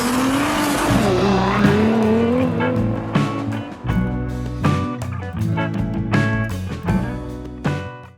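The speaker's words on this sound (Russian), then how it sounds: "Газ в пол, начинаем путешествие." Chevrolet Tracker mini crossover accelerating hard, engine rising in pitch through a long pull, then a series of quick gear changes with brief dips, loud and close.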